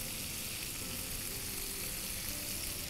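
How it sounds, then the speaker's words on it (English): Fish pieces pan frying for Jamshedji fish, a steady, even sizzle with a dense hiss that holds at the same level throughout, close and fairly quiet, with no voices. "Pan fry them on either side till they get a nice glaze."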